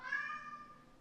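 A single cat meows once, a clear, close, drawn-out call that fades over about a second.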